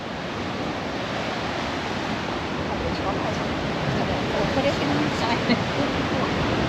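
Ocean roar at Katawaki Cape in Japan, heard from a suspension bridge as a broad, constant rushing wash of surf with some wind, steady and fairly loud with no clear breaks.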